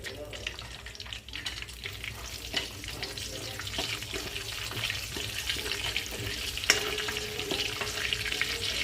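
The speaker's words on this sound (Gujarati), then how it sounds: "લાલ મરચાં 2, તેજ પત્તા, આનો આપણે વઘાર કરીશું" Red chillies, bay leaves and cardamom tempering in hot oil for palak paneer give a continuous low sizzle and crackle, with a few sharper pops and scraping stirs near the middle and end.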